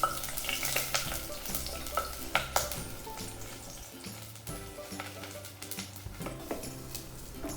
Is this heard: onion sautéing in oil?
yes